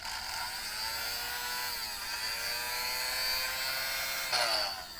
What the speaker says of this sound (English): Oh yeah, this was a vacuum.